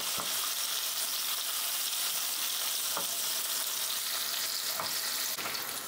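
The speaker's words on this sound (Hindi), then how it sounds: "गैस का फ्लेम हम मीडियम करके प्याज को फ्राई करेंगे हल्का कलर चेंज हो जाने तक।" Thinly sliced onions frying in a pan over a medium gas flame, a steady, dense sizzle with occasional soft stirring scrapes, close and continuous with no talking.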